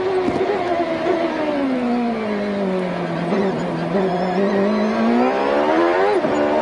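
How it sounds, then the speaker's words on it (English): A 1996 CART race car heard onboard at the Toronto street race screams at high revs, then its engine note drops and bogs as it enters a corner before climbing again, loud and steady with commentary faintly underneath. "The car almost bogging down into that corner then."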